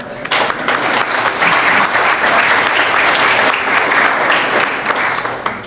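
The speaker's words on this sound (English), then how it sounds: "I want to clap for you." A dinner audience at an annual charity dinner applauds loudly and steadily, a thick wash of many hands clapping that holds at full strength for several seconds before thinning slightly.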